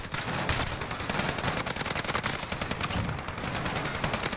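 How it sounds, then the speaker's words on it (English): Dense, rapid bursts of gunfire with heavy blasts from the Call of Duty Spec Ops video game, loud and continuous throughout with no pause. "Oh, that's an airstrike."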